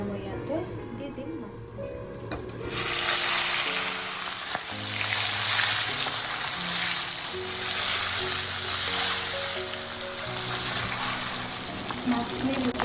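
Fish is dropped into hot oil in a wok and bursts into a loud, close, crackling sizzle that keeps hissing steadily, with a voice speaking over it.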